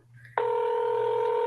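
Telephone keypad dialing tones for a call: a soft low hum, then a steady, loud dual-pitch DTMF tone holding without a break for over a second, clear and with no talking.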